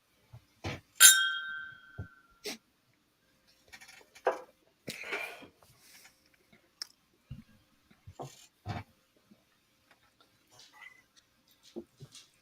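Glasses clinking together in a toast to fallen service members during a veterans' whiskey club livestream, one bright ringing clink near the start followed by scattered light taps and knocks in a quiet room.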